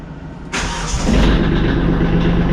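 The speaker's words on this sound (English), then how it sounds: "so we'll get the tractor fired up here" A Kubota B2650 compact diesel tractor cranks and fires after a short preheat on a snowy day, then settles into a steady, loud, close rumbling idle.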